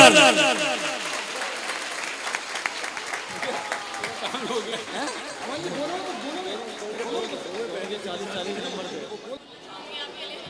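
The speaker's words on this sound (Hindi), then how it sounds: "तालियां देखो जरा, ताली बजा दो जोरदार" Enthusiastic audience applause at a Jain children's education camp closing ceremony, dense steady clapping sustained throughout with crowd chatter and a voice speaking over it.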